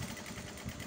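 A sewing machine runs steadily while stitching around a beret's lining piece, giving a continuous close-up mechanical whir with a quick, even stitch rhythm and no pauses.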